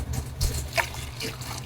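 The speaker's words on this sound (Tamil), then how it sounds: "இப்போ இதில் நான் ஒரு 4 கப்பு தண்ணி ஆட் பண்ண போகிறேங்க." Water pours into a cooking pot of tomato rasam, a brief close trickle and splash lasting under two seconds, over faint room hum.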